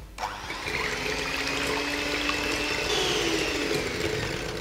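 Five egg whites with a pinch of salt are beaten in a bowl, giving a steady, close whirring that runs without a break for several seconds.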